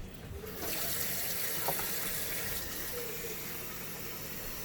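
Tap water gushes steadily into a cooking pot at a kitchen sink, a close, continuous rushing stream with a faint clink partway through.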